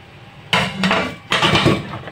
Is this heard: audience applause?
no